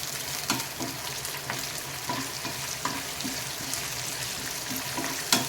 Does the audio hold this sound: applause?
no